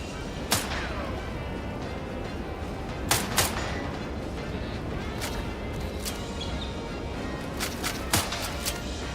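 Scattered gunshots in The Outer Worlds 2, sharp isolated cracks and a few quick doubled shots spread over several seconds above a steady background rumble, with talk running underneath.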